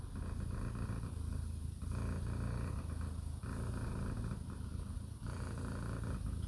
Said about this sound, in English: She always gives her purrs.